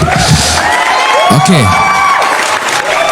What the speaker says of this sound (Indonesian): beri tepuk tangan dulu yang meriah buat Tuhan ya